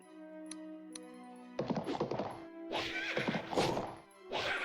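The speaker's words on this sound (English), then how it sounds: "And I'm going to send another horse." A horse whinnies and gallops in The Battle for Wesnoth. Two sharp clicks come over a quiet tonal bed, then hoofbeats and thuds surge in bursts over game music.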